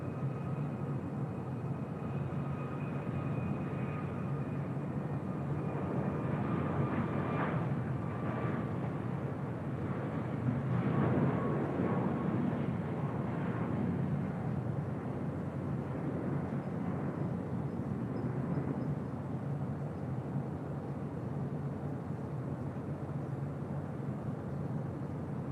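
A United airliner departs LAX for Houston, its distant jet roar a steady broad rumble that swells to a peak midway and then slowly recedes, faint and without talk.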